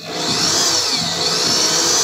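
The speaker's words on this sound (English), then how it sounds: "Make sure you're using a variable drill." A variable speed power drill whirs steadily while boring holes, a loud, close, continuous whine with no pauses, during an anti-theft battery lock installation.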